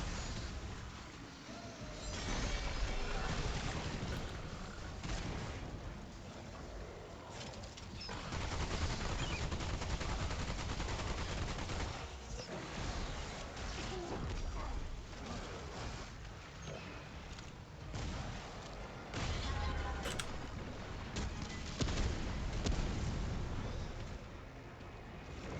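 Video game gunfire from minions shooting, a dense, crackling barrage of rapid shots and bursts that swells and dips over a long stretch, heard fairly faint.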